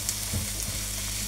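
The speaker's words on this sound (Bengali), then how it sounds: "আমি আস্তে আস্তে করে ভেজে নিচ্ছি, যাতে প্রতিটা পেঁয়াজ সমানভাবে ভাজে, পুড়ে না যায়" Onions and garlic fry slowly in a pan for chicken biryani, giving a brief, steady, soft sizzle with a faint stir, with no one talking.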